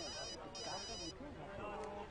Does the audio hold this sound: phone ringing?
yes